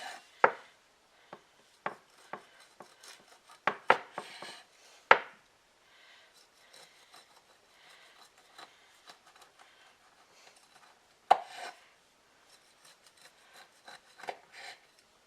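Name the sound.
knife cutting rolled puff pastry cinnamon rolls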